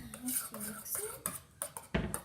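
Homemade slime made from body wash being stirred in a container, with clinking and scraping of a utensil and wet squelches in uneven strokes, close, while someone speaks.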